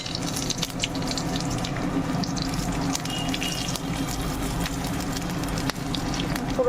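Dried red chillies, green chillies and whole garam masala (cardamom, cinnamon, bay leaf and cumin) tempering in hot oil for a Bengali fish curry, giving a loud, continuous, crackling sizzle throughout.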